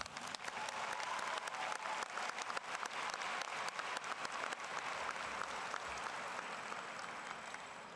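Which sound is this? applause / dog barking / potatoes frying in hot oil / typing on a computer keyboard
applause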